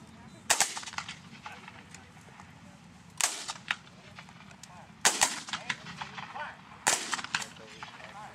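Black-powder historical muskets fired by files in a Gettysburg demonstration: four sharp, loud reports spaced a couple of seconds apart, each followed by a brief ringing echo, with no talk.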